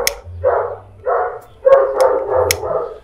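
A dog barks several times in quick, close bursts in a scene from the Nollywood action film Galloper, with short pauses between the barks.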